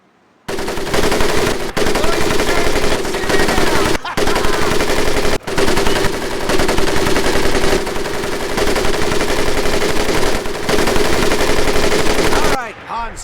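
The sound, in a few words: machine gun firing in video game Medal of Honor: Pacific Assault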